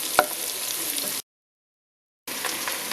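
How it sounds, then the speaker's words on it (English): Garlic and potatoes stirred in a hot pot for German potato soup: a steady close sizzle with soft scraping, one sharp knock near the start, and a full silent gap in the middle before the frying noise returns. "We're going to give those a good stir and get those potatoes nice and warm before we add the broth."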